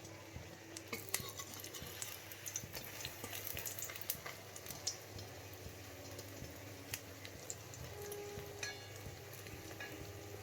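Bread soaked in beaten egg with onion, chilli and salt fries in a wok, a steady soft sizzle with scattered pops and crackles throughout, fairly quiet and unbroken by talk.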